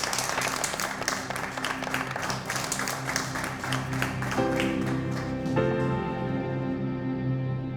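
An audience at the Celebrity MasterChef final breaks into steady applause for a finalist. The clapping is dense and sustained, with gentle music swelling underneath it toward the end.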